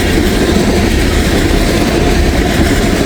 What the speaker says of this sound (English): Got an empty ethanol train here.